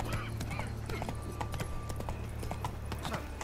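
Roach, the horse in The Witcher 3, clip-clops along in a steady rhythm of close hoofbeats, with a faint ambient bed behind them.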